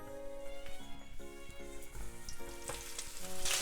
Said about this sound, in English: So once the frying pan has got heated, I'm going to put in the chicken. Try to put the skin side down.